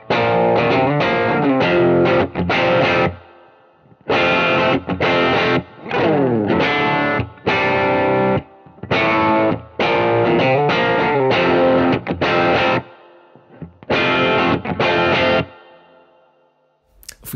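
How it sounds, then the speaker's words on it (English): An electric guitar through a distortion pedal set for a gritty, lightly overdriven classic rock tone plays short chordal phrases separated by brief pauses, fairly loud and close. "you're going to get some really kind of cool, lightly overdriven classic rock tones"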